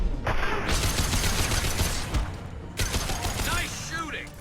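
Rapid gunfire bursts from a Mass Effect 2 firefight, dense crackling volleys running through most of the stretch with a brief pause, then another round of shots trailing off, with a voice talking over part of it.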